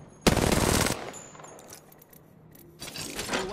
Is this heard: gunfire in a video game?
yes